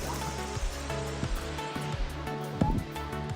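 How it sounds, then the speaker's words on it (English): The roaring torrent of Skogafoss waterfall in Iceland, spilling down the side of a mountain, gives a loud, constant rush of water, with a low rumbling hum and a few brief thumps through it. "We stopped by Skogafoss, which is quite the spectacular waterfall tucked into the side of the mountain."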